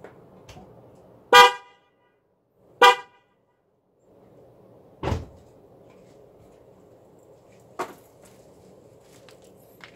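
A newly replaced horn on a Nissan Murano blares in four short, loud honks spaced a second or two apart, with a faint background hum between them and no talking.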